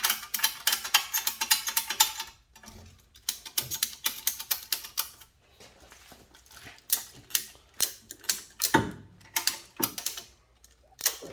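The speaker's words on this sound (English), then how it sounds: "you just want to work the ratchet straps back and forth until that ball joint falls into place" Ratchet straps cranked back and forth while working a CV axle ball joint into place on a 2010 Lincoln MKT AWD, giving rapid close clicking bursts of the pawl in repeated runs separated by short pauses.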